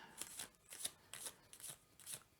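Tarot cards are shuffled by hand in several quick riffling bursts, crisp papery flutters spaced out in a steady rhythm, close and fairly quiet with no talking.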